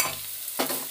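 Ginger garlic paste frying with browned onions in a pan, a soft steady sizzle with a brief scrape of stirring partway through, fairly quiet and without talk.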